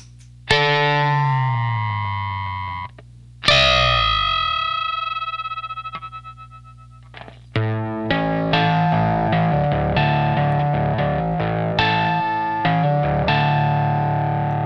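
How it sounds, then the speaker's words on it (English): Electric guitar double stops run through a Zvex Johnny Octave pedal, heavily processed and distorted with warbling, uneven pitches; several sustained notes ring out, then a busier run of notes. "with the Johnny Octave, all kinds of strange things happen."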